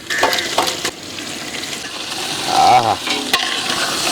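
Eggs go into a sizzling Hyderabadi egg korma curry and are stirred, producing a loud, continuous frying hiss with scraping stir strokes close up, while a voice briefly exclaims.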